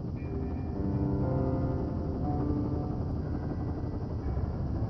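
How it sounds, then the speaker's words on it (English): A helicopter in the video game Firewatch produces a steady, loud rotor drone with a low throbbing hum throughout, uninterrupted and without any voices. "There's the helicopter."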